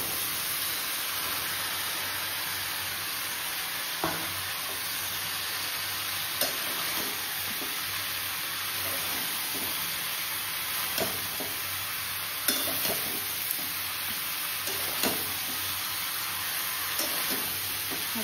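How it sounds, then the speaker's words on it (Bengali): Spiced masala frying in a pan while bottle gourd is being cooked, with a constant broad sizzle and hiss throughout and occasional sharp clicks and scrapes from a spatula stirring against the pan. "আর কষে যাচ্ছে, এবার লাউটাকে দিয়ে দেবো।"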